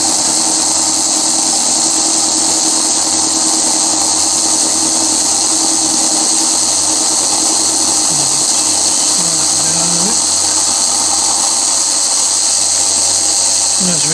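A milling machine taking a light spring cut on a vice stop, a loud steady motor whine with a high-pitched cutting tone that oscillates slightly, running continuously with no talk.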